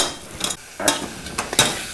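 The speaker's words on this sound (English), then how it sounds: "Put those back in and start working them with the masher." Steamed turnips being worked with a masher in a hot pan give soft, wet squishing presses and a faint sizzle, several short irregular strokes close up with no talking.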